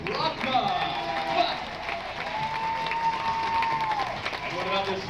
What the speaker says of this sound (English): give a big round of applause to your host